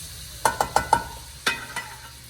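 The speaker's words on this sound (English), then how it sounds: "So we got this rice browning in a stick of butter." Brown rice toasting in a stick of butter in a hot pan gives a soft sizzle, with a quick run of four sharp stirring clinks followed by a couple more, heard up close.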